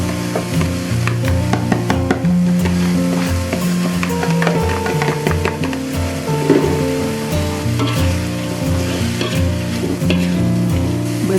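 Loud, constant sizzling of shredded tuna frying in a pan, with repeated scraping and stirring strokes throughout, heard close up with no talking.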